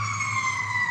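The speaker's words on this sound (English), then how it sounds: "You get ambulances going by all the time." An ambulance siren wails steadily on a road near a hospital, held at a constant pitch and moderately loud for a brief moment, with no voices.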